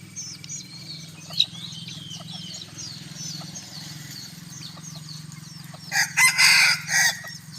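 A bantam rooster crows once, loud and near, late in the stretch on a hot evening, over a steady low hum and faint chirping of other birds in the background.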